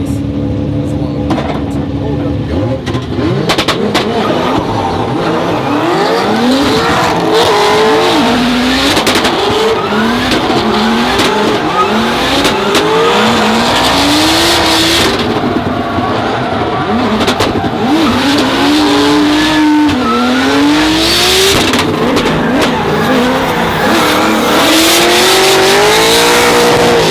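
Loud drift cars at Yas Marina Circuit in the UAE rev hard with rising and falling engine notes, screeching tires throughout, close and continuous, with voices talking over the noise.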